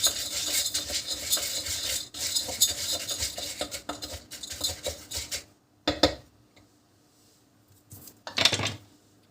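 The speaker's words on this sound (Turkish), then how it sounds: "karıştırıyoruz" A spoon scrapes and swirls steadily around a bowl, stirring popcorn ingredients with salt, for several seconds, pauses, then a few shorter stirring bursts follow, close and fairly loud.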